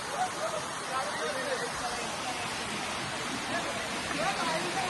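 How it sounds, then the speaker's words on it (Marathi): A reverse waterfall on the Naneghat trek in monsoon, water spray blown back upward by strong wind, heard as a steady broad roar of rushing water and gusts throughout, loud and continuous. "आपण बघू शकतो रिव्हर्स वॉटरफॉल"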